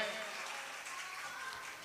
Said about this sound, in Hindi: जोरदार तालियों से उनका अभिनंदन करें